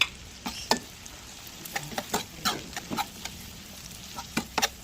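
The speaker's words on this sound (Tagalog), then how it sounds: "Haluin natin" Ilocano-style bopis gets stirred in a pan with irregular spoon clinks and scrapes over a quiet, low sizzle, close and fairly soft.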